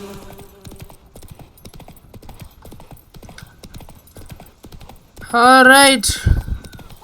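Hooves of Geralt's horse Roach in The Witcher 3 clop in a steady, rapid rhythm on snowy ground, with a loud whinny near the end and a voice briefly over the gallop.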